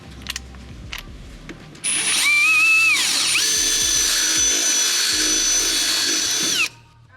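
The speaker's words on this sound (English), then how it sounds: "we're going to get our 3/8 drill bit and drill out the inside here so that we have room for the airline" A power drill with a 3/8 bit bores out the inside of an airsoft stock tail, a loud steady high whine lasting several seconds after a few handling clicks, then cutting off.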